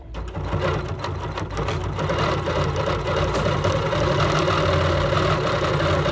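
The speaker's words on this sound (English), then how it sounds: "Now I'm going to stitch. I'm going to do a little back stitch." A BERNINA Q 16 longarm quilting machine stitches with a short back stitch, giving a close, steady mechanical whir and rapid needle chatter that runs unbroken throughout, with no talking.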